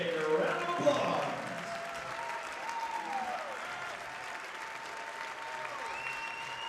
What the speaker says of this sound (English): Let's give all of our seniors and their parents a big round of applause